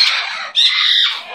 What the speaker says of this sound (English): Look at that beautiful bird.